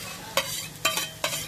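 Onions and tomatoes fry in oil in a pan for a Malvani masala fish fry, a steady low sizzle broken by three sharp spoon-stirring knocks.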